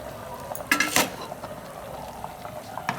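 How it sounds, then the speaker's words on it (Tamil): Water splashes into a bubbling pot of mutton curry, a brief pouring burst over steady simmering and faint clinks. "தண்ணி கொஞ்சம் ஊற்றிக்குவோம்"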